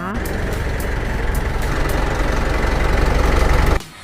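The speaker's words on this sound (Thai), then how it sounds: "เดี๋ยวเรามาฟังเสียงเครื่องยนต์กันนะคะ" A steady, low rumbling diesel engine of a 2021 Hino FC9J 210 six-wheel truck idles close by, holding an even throb for several seconds before cutting out abruptly near the end.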